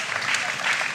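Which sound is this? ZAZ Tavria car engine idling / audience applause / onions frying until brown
audience applause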